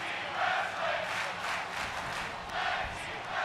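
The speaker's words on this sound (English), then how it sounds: "the crowd in Vancouver chanting tag team wrestling" A wrestling arena crowd in Vancouver chants rhythmically during a tag team match in the WWE 2K25 video game, a distant rolling swell of voices rising and falling steadily.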